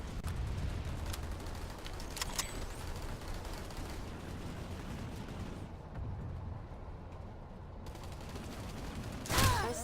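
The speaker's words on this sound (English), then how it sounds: "just got shot, and that's probably a sniper" In the Planetside 2 video game, a single sharp sniper gunshot cracks near the end over a low, steady hum of distant battle noise.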